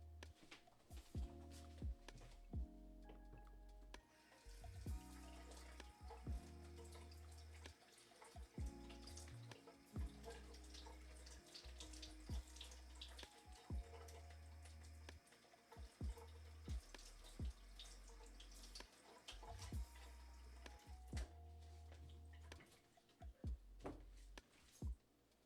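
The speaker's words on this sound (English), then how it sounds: "I'm gonna rinse this off and also the pepper." Tap water running into a sink while a tomato and pepper are rinsed under it, a steady faint splashing stream broken by repeated clunks and knocks of handling, with no talking.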